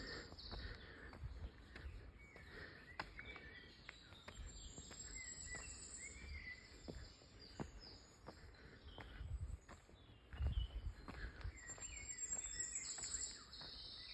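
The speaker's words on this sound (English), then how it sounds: "Can you hear a goldcrest calling?" Very high, thin, sibilant goldcrest calls repeat faintly over quiet outdoor ambience near St Lawrence, Isle of Wight, with occasional soft rustling and thuds.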